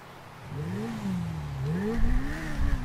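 Chromed Suzuki V-Strom motorcycle engine in GTA V, revving with a clear droning tone that swoops up and down in pitch and grows louder and rougher toward the end.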